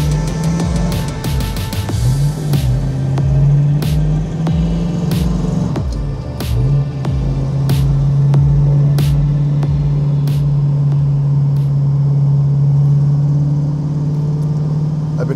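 A 1970 Plymouth Cuda Hemi drives along, its engine droning steadily with a few gear changes and rising revs, loud and close throughout, with sharp clicks or ticks on top.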